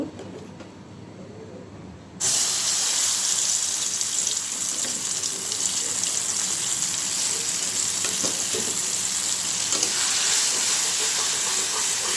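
Mustard seeds dropped into hot oil for a mango pickle, a quiet low hum suddenly giving way to a loud, bright, continuous sizzle that holds steady at close range.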